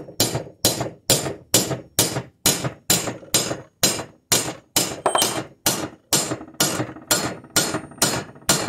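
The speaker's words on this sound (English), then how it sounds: "you should just be able to hammer it down into place" A small hammer striking a bearing down into a Mercedes 722.9 4Matic transfer case on a 2011 GLK 350, with about sixteen evenly spaced sharp metallic blows at a steady rhythm, each with a short ringing decay, close and alone.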